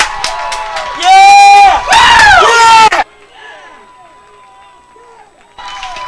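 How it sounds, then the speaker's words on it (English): Spectators at a varsity boys lacrosse game erupt in loud cheering and shouting after an opposing forward is ejected, two surging bursts of crowd noise that cut off abruptly, followed by quieter murmuring and chatter before voices pick up again. "The crowd is very happy about that one."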